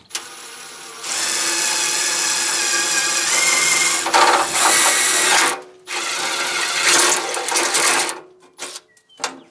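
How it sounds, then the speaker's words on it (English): A power drill fitted with a step drill bit bores a hole in metal for a drag car build. It whines loudly and steadily in long bursts, pauses and restarts, and ends in short stuttering pulses. "Just going to use a step drill bit"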